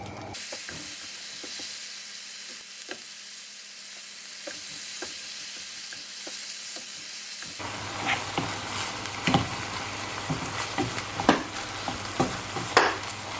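Grass-fed ground beef browns in a pan for keto chili, giving steady broadband sizzling that grows louder and busier in the second half, with scattered crackles and pops close up.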